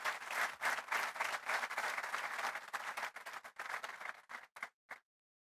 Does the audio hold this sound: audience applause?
yes